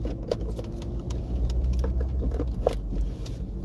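A car pulls away gently on a city street after signaling a left turn, with a low steady engine hum, a few soft clicks and rattles inside the cabin, and no talking.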